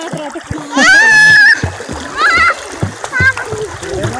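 Small boat crossing a river with a few splashes of water against the hull, mixed with excited children's voices and other people talking close by.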